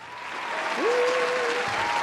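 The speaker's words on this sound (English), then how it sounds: "And let's give a round of applause for our commentator, Jarrett Krosoczka." Live audience at a comics challenge event applauds a commentator, clapping swelling in and holding steady, with a faint sustained tone or whistle gliding through the middle.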